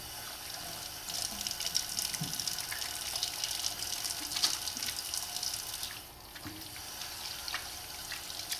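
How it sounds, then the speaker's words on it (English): Water runs steadily from a faucet as hands are washed at a sink in an exam room, a continuous close splashing hiss with brief dips and small splatters, with no talking. "I'm going to go ahead and wash my hands."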